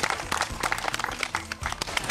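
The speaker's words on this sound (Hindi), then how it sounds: "तालियां हो जाए इनके लिए।" Applause at a Buddhist vihara event in Chandan Nagar, Nagpur, a short burst of scattered hand clapping from a small audience, irregular and moderately loud.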